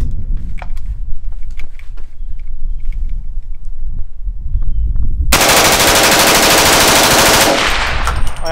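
A few seconds of quiet handling noise, then an M2 carbine fires on full auto in one loud, close, sustained burst lasting about two seconds.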